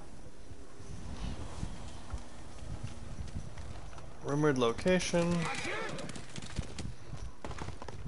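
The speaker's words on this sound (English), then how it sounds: "I guess the horse jumps automatically." Horse hooves clip-clopping at a steady pace in the video game Ghost of Tsushima, with gameplay ambience and a voice speaking briefly over the middle.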